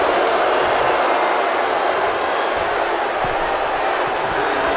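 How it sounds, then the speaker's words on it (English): A simulated arena crowd cheering at a WWE 2K19 women's wrestling match, a loud, continuous roar of massed voices with scattered claps and thuds underneath, steady throughout. "I know the crowd is enjoying this match, but they're not behind Shayna Baszler one bit"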